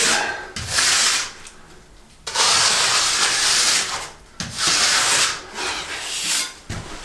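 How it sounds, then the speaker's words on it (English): A float sweeps over a lime plaster float coat on a wall, making long, rough rasping strokes that come in three or four loud, close passes separated by short pauses. "it's dragging a bit, so I'm going to leave it a bit longer yet before I use this float."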